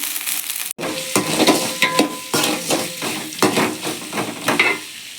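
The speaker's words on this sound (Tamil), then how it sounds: "அதுக்குள்ளே வெங்காயத்தை வதக்கலாமா" Onions sautéing in a pan for chapati kurma, a loud close sizzle with rhythmic scraping and clinking stirring strokes after a brief cut near the start, no talk.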